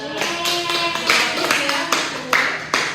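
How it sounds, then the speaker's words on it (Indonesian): Applause for a student in a classroom comes as a quick run of claps and taps from a small group, close and fairly loud, with sharp separate strikes instead of a full roar. "Oke, tepuk tangan buat Fauza."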